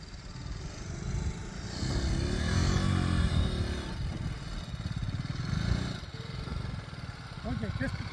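A BMW GS adventure motorcycle's engine drones and rises during an off-road tyre test, riding through mud at a steady nearby rumble with throttle swells, while voices talk over it.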